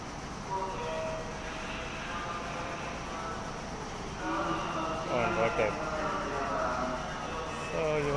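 A train rolls through a station in Nagoya, Japan, with a steady rumble and rising wheel and motor whine as it passes nearby, with people talking in the background.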